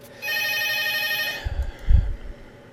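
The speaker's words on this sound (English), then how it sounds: "Friday afternoon and damn phone's ringing." A telephone rings once in an office setting, a single bright electronic trill lasting just over a second, followed by a few low thumps and handling noises.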